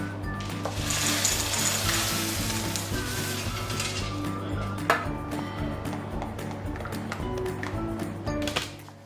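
Two liters of whipping cream being poured into a hot pot and coming to a boil, a continuous close sizzle and bubbling hiss with occasional taps and clinks.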